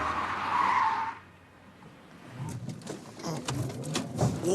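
Car tires squeal and skid under hard braking in a driving test, a bright screech that breaks off, followed by rumbling and scattered clatter as the car slides to a stop.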